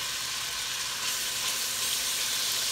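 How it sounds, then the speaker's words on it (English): Regular beef chuck sears in a hot pan for a beef stew, giving a steady, close, loud sizzling hiss with no pauses and no voices. "I'm gonna finish searing all this meat off here."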